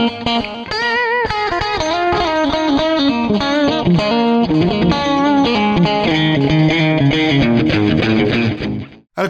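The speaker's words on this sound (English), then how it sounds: "I'm going to move to a sound now with a little more drive to it" An electric guitar, a custom Fender Stratocaster through a profile of a Fender Deluxe Reverb amp, with a gritty, overdriven tone plays a melodic blues-style run, loud and sustained, ending with a sudden cutoff.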